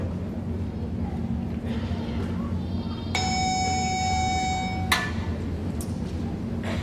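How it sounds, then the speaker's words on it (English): An electronic school bell rings steadily for about two seconds, then cuts off abruptly, over a constant low background hum. "The school days started slowly, but got faster each period after we heard this bell."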